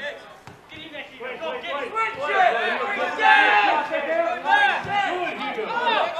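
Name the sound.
football crowd calling out to players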